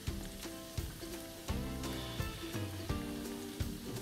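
Spinach vada (keerai vada) frying in hot oil on a low flame, giving a steady crackling sizzle with small pops, heard close and moderately loud under background music.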